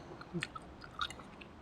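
Crunchy stir-fried oyster mushrooms in oyster sauce being chewed up close, a few crisp bites and soft mastication sounds, quiet and alone.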